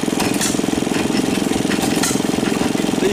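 Antique stationary engines run with a gear reduction, chugging in a steady, rapid, evenly spaced rhythm that is loud and close, with no talking.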